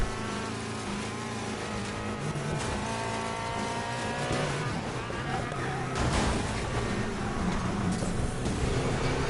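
Several pursuing cars chase close behind in the Need For Speed Payback racing game, their engines a loud, continuous roar with rising and falling revving tones and a burst of louder noise partway through.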